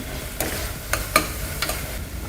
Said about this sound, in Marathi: यात घालूया 1/2 चमचा हळद, 1 चमचा तिखट घालायचे